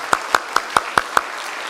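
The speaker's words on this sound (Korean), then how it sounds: "박수를 먼저 하고 환영하도록 하겠습니다" Church applause welcoming a missionary, six crisp, evenly spaced claps close by in a quick steady beat over a quiet room.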